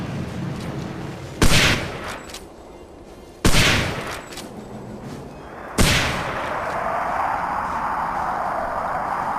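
Three loud, sharp gunfire bursts in the World War II tactical shooter Hidden and Dangerous 2, spaced a couple of seconds apart, each trailing off into echoing combat noise.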